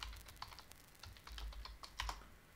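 Password being typed on a computer keyboard: a quick run of light key clicks, close and fairly quiet, with a slightly heavier tap near the end like the Enter key.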